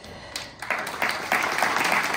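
A crowd applauds at the opening of an autumn arts salon at the Espace Gérard Philipe in Fronton. The clapping starts sparse, then swells into full, close applause that keeps building.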